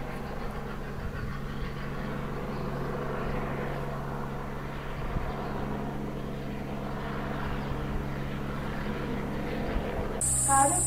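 An aircraft circles overhead somewhere in Japan, its engines a steady, fairly distant drone that carries on without a break and has no talking over it.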